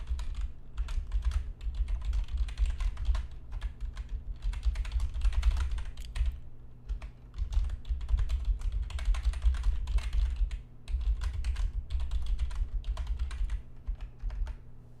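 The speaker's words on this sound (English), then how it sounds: "Sorry if you heard me click-clacking. I was typing that to our Discord community." Rapid clicking keystrokes come from a computer keyboard being typed on nearby in bursts with short pauses, over a low steady hum from the room or equipment. No one speaks.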